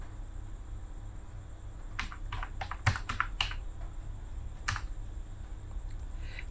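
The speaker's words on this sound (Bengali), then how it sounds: "এরপর ওটিপিটা এখানে টাইপ করব" Keys clatter on a computer keyboard as a one-time passcode is typed in: a short cluster of quick clicks after a quiet pause, then one more tap, close and crisp against a low steady hum.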